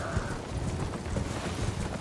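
A horse gallops in the video game Elden Ring, its hooves making a fast, continuous clip-clop of thuds that stays fairly close and even, with muffled game noise underneath.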